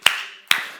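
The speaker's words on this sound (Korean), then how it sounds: "믿는 사람만 박수." Two sharp, separate claps ring out in a church, about half a second apart, each with a short echoing tail in a quiet room.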